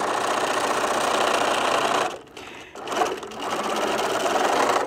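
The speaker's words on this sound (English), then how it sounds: "I'm just going to stitch this down here." A home sewing machine runs steadily, stitching a seam in fabric for a small dog poop bag holder, with a short pause in the middle before the motor whirs on again.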